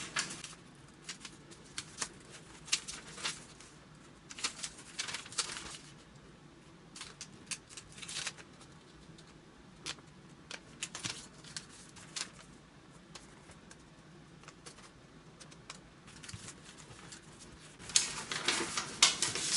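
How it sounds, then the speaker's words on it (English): Sheets of paper folded by hand into an origami base, a soft intermittent rustle and crinkle with louder bursts of handling, close and fairly quiet, most active near the end, no speech. "So now you would fold all four corners to the middle."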